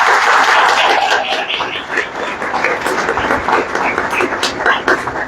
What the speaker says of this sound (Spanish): Por favor, un fuerte aplauso para el doctor Marcos Adrián Ortega Guerrero.